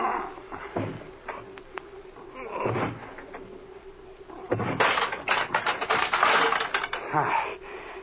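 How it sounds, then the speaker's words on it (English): In a radio drama, a door is heaved open with a shoulder: a series of wooden thumps, creaks and rattling knocks that build into louder, busier banging toward the end. "Come on here, put your shoulder to this door. It doesn't have much of a lock."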